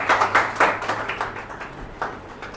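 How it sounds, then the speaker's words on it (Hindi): Audience claps to welcome a comedian on stage, a thinner burst of distinct hand claps that starts loud and separate, then tapers into scattered, softer clapping. "तालियों से स्वागत करें आशीष उपाध्याय का"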